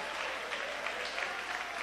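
Steady applause and clapping from a church congregation praising Jesus during a Pentecostal service, a continuous even wash of hands heard at moderate distance for under two seconds.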